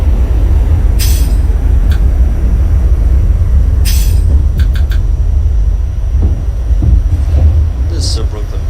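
An NYC Subway R68 D express train, Brooklyn-bound, runs in a steady loud rumble of rail noise from start to finish, with occasional brief hisses and squeals on top and some voice-like sounds mixed in.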